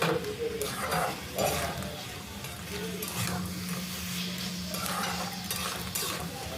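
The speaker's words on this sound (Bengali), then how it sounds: "এইভাবে অনবরত নাড়াচাড়া করে যেতে হবে" Crab and potato curry is stirred continuously in a hot pan, a steady sizzle with repeated scraping strokes of the spoon throughout.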